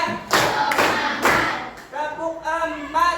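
A class of students claps three times in a steady rhythm, loud and close, as a group clapping pattern. Voices chant and talk just afterward.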